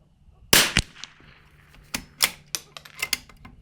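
A Tikka rifle fitted with a WOOX Cobra precision stock fires one sharp, loud report, followed by several quieter clicks and knocks.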